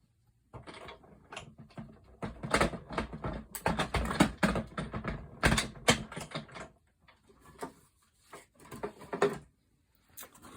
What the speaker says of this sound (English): no, not my Big Shot, my die cut and embossing machine.